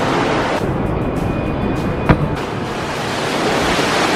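A swimming pool bubble machine beneath a diving tower churns the water into a loud, continuous broadband roar of rushing bubbles, steady throughout with a single sharp click midway and no talking.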